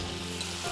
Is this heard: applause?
no